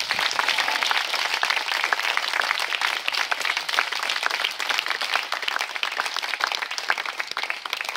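Dense, steady applause from a free outdoor jazz concert audience thanking the technical crew, many hands clapping continuously at full strength throughout, no speech.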